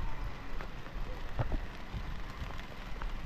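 Soft, steady rain patters on a surface, with scattered louder drops standing out against the quiet, continuous wash.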